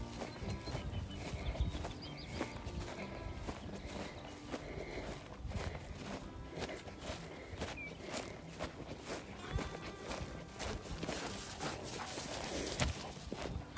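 Cattle being driven by riders on horseback along a ranch trail through trees, heard as a steady mix of hoof clops, footsteps and shuffling movement at moderate distance, continuous throughout with no talk.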